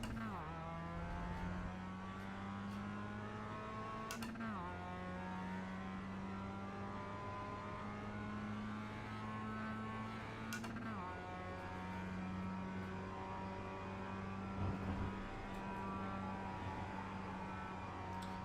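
Mazda race car engines in the iRacing video game at Spa drone steadily at high revs, with shifts and pitch drops as the car brakes and accelerates again, the sound continuous and fairly faint.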